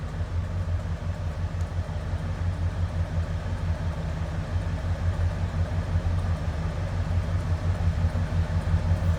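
A 1963 Buick Riviera Sport Coupe engine runs at a steady idle, a loud, even low-pitched rumble heard close up and alone, without talk.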